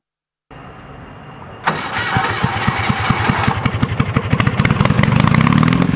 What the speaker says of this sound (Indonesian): ia menggunakan mesin kendaraan roda 2 berkapasitas 800 cc sebagai motor penggerak utama